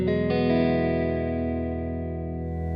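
Spring reverb on a Universal Audio Golden Reverberator guitar pedal, with an electric guitar chord struck and quickly restruck twice and then left to ring in a long, even, fairly loud sustain with no talking.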